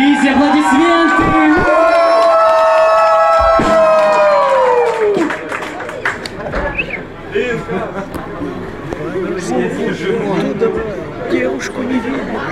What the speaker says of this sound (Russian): Лизе, аплодисменты!